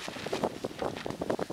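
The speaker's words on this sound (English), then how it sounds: "Getting pretty windy out here." Wind gusts at a dispersed campsite, buffeting the microphone in short irregular bursts of rumbling noise, close and fairly loud.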